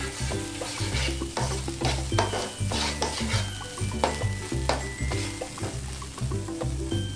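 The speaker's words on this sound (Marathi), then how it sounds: "त्याला पण तेल सुटेपर्यंत आपण मस्त भाजून घेऊया या पेस्टला पण।" Masala paste for paneer masala roasting in oil until the oil separates, with steady sizzling and repeated spoon-stirring scrapes, close and moderately loud over a continuous low tonal hum.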